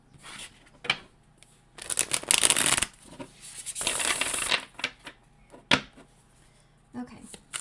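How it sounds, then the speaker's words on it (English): Brisk bursts of tarot card shuffling, a few riffles and short flicks separated by pauses, close and fairly loud, with some quiet movement in between. "One more quick shuffle, okay?"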